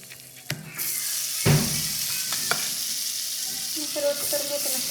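Butter sizzling in a hot pan with bread, a steady crackling fry close by with a few sharp clatters and scrapes of stirring, no talk over it.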